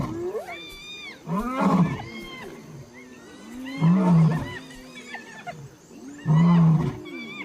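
A lion lets out repeated deep roars while confronting hyenas over a nearly stripped carcass in the wild, three loud, close bursts spaced a couple of seconds apart with grunting between them.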